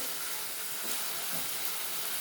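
Spices sizzle in a hot pan for a Bengali bata fish curry, a steady, faint, even hiss with slight bubbling crackle and no talk.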